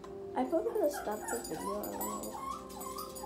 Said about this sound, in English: Oh, sorry, that's my dog.